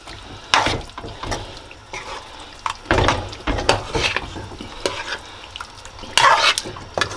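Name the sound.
stirring curry shrimp in a pot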